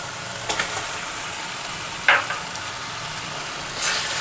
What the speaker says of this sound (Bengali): এবার আমি দিয়ে দিচ্ছি ভাজা মাছের মাথাগুলো,